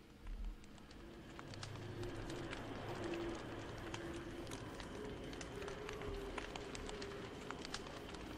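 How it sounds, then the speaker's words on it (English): In the survival video game Don't Starve, a tall bird gives low repeated hooting coos while quick running footsteps patter steadily over faint background ambience, all fairly quiet. "Running from the tall bird."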